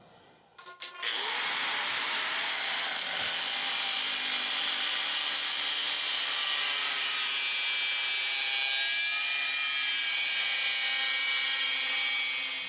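Steady, loud sawing through wood rails, cut in half while building a trailer from salvaged junk-pile material; the cut starts after a brief knock and runs continuously for about twelve seconds with no talk.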